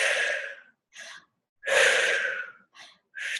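Slow, deep breaths drawn in and pushed out, several long airy inhales and exhales close up with short pauses between, no words spoken.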